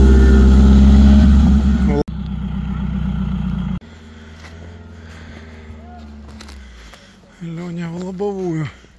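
Off-road vehicle engine revving hard on rough terrain, a loud, heavy drone that drops abruptly then continues more quietly, with people talking over it toward the end.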